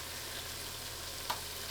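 Sourdough zeppole frying in hot oil, a steady, even sizzle that holds through the short stretch with one faint pop and no voices.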